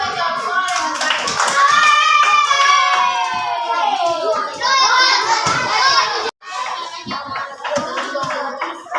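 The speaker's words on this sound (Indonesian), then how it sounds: "Tepuk tangan untuk semuanya karena sudah menjawab soal dengan baik." Schoolchildren in a classroom clapping their hands together in rhythmic bursts, mixed with lively children's voices and chatter close by.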